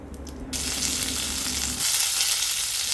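Cumin seeds and curry leaves dropped into hot oil on a low flame burst into a loud, close sizzle that stays steady and crackling after a quieter start.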